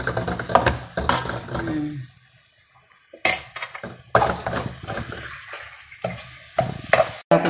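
Chopped tomato pieces hit a hot pan and fry with bursts of sizzling and stirring, loud and close, with brief pauses between clattering additions.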